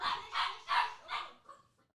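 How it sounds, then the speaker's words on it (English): A dog barks four or five times in a steady run, fairly faint and slightly distant, the barks fading out at the end with no talk over them. "not yet, not while she's barking."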